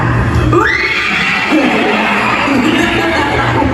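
A loud, drawn-out scream rises over a busy, noisy background of crowd-like commotion, sustained for several seconds.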